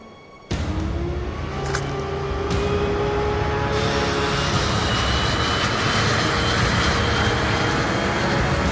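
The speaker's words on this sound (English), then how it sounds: "We'll escape with my training jets." Training jet engine spooling up for takeoff in Ace Combat 5, a broad, steady roar that swells after a short quiet start and holds loud and constant, with a faint whine near the beginning.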